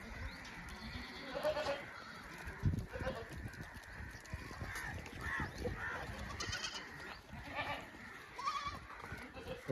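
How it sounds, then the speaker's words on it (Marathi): Osmanabadi goats on a goat farm bleat repeatedly, with overlapping calls near and farther off against a busy outdoor background. "एकदम टॉप क्वालिटीचे शेळ्या आहेत बघा"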